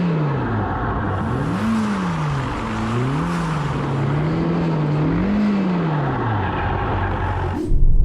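A Ferrari Roma's engine drones close and loud throughout, its pitch swinging up and down in repeated waves as the car spins donuts with stability control off, with tyre roar underneath and a sharp burst at the very end.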